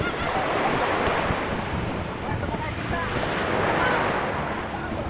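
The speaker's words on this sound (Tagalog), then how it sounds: "Ay, lakas ng alon." Strong sea waves roar and surge continuously, a dense, steady crash of surf with gusty wind noise over the microphone.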